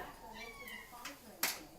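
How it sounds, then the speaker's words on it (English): A cat whines and meows faintly in a home kitchen where eggplant is being baked, a couple of brief plaintive calls mixed with a person talking nearby. "Oh, kitty, don't be whining into my"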